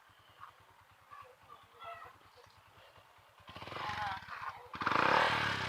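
Motorcycle stalled on a flooded road in Meycauayan, Bulacan, with its exhaust covered, cranking through a steady low pulsing before the engine catches and roars loudly, revving harder toward the end.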